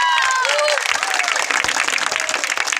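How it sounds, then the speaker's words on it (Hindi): A crowd at a street campaign reception bursts into dense, steady applause to welcome Udayraj Tiwari, father of candidate Ankur Raj Tiwari. The sustained clapping fills the space with a faint whistle or cheer near the start. "मैं चाहता हूं एक बार आप लोग तालियों के साथ उनका स्वागत करें"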